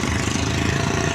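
A motorbike engine drones steadily at close range, a constant mid-pitched hum with no pauses.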